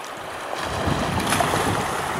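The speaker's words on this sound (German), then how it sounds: "Und dann noch das Rauschen der Wellen." Sea waves rush and hiss along a shore on the Lofoten coast, a steady broad roar with some wind buffeting the microphone.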